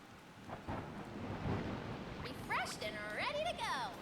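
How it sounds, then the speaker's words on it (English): Rain falling on a roof in the video game Donkey Kong Bananza, a steady soft patter with low rumbling beneath, joined in the second half by bright warbling musical or creature tones. "I love the sound the rain makes when it's falling on the roof."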